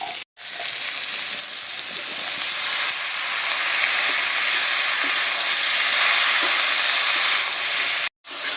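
Chopped ash gourd sizzling loudly in a hot pan for a spicy chorchori while it is stirred, a dense, steady hiss that fills the whole stretch, cut by two brief silent gaps.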